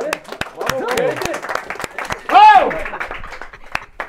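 Scattered hand claps ring out at a university gathering among a group of friends, sharp and irregular, mixed under lively overlapping chatter and exclamations, with one louder vocal burst near the middle.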